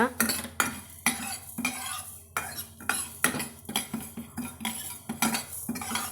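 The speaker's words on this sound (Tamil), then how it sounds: "வெறும் வடக்கல்ல எண்ணெய் இல்லாமல் கருகாமல் நல்லா வாசம் வர வரைக்கும் பொன்னிறமாக வந்து இதை வறுத்து எடுத்துக்கலாங்க" Fenugreek seeds are dry-roasted in a pan with no oil, a spatula scraping and clinking against the metal in a quick, regular rhythm, about a dozen close strokes with little sizzle.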